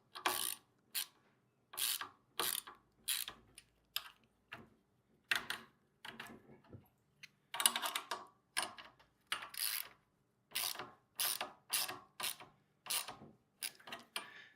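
Hand ratchet wrench tightening a part on a VEVOR plate compactor with a 2.8 HP 78.5 cc gas engine, close bursts of rapid clicking repeating in steady strokes with short pauses between.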